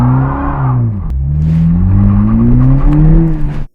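Toyota Supra engines rev hard during burnouts on a wet road, rising and falling in pitch as the revs climb, loud and close, then cutting off abruptly at the end.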